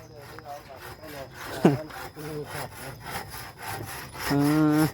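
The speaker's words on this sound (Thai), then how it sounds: "ใช้เลื่อยมือเอาเนาะ" A hand saw rasps through wood in repeated back-and-forth strokes, close and rhythmic, with brief voiced sounds mixed in.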